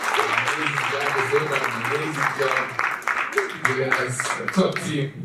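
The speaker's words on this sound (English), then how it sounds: "round of applause, ladies and gentlemen" Audience clapping at an international engineering students conference, a round of applause that keeps going underneath someone speaking into a microphone.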